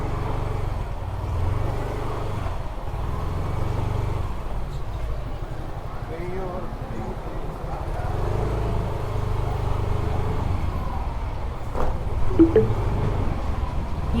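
Heavy trucks rumble past in dense road traffic, a continuous low engine drone with swells as vehicles pass close, heard from a moving motorcycle with occasional voices mixed in.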